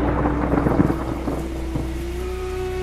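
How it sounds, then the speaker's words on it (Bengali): A thunderclap effect in a ghost story cracks and rolls into a low rumble over wind-like noise, fading away within a few seconds as a steady tone lingers underneath. "আর ঠিক সেই মুহূর্তেই বাইরে কোথাও একটা বিকট শব্দে বাজ"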